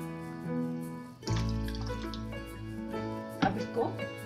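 About one and a half cups of water pour into a cooking pot holding meat, chana dal and whole spices for shami kabab, a steady splashing rush that starts suddenly after a soft tonal hum, close and fairly loud, with a few clinks near the end.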